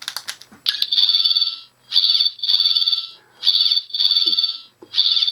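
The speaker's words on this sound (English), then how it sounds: "it plays kind of an abrasive fire alarm noise" A Doctor Who sonic screwdriver toy sounds an abrasive, shrill electronic fire-alarm tone in repeated pulsing bursts with brief gaps between them, preceded by a few clicks of the button.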